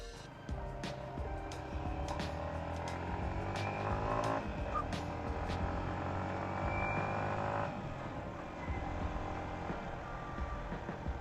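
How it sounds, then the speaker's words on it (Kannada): A Yamaha XSR 155 motorcycle carrying two riders pulls away and accelerates, its engine note loud and steady throughout under constant wind and road noise, with no talking. "ಇಬ್ರು ಕುತ್ಕೊಂಡಿರೋದಕ್ಕೆ ಯಾವ ತರ ಪಿಕಪ್ ಇರುತ್ತೆ ಅಂತ ನಾವು ನೋಡೋಣ ಫಸ್ಟ್"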